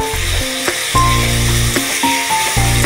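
Steady sizzling of water spinach frying in a hot pan, with a few scraping stirs along the way; close and continuous.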